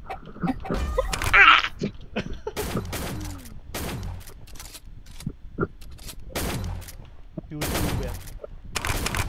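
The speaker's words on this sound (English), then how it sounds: "Shotgun lang man." Guns fire in rapid bursts during a Shell Shockers match, with sharp, punchy shots scattered irregularly among other effects and a player talking between them.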